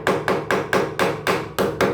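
Ceramic bathroom wall tiles over a hollow backing are struck in a quick, even series of about eight sharp knocks, each with a short hollow ring, close by and alone.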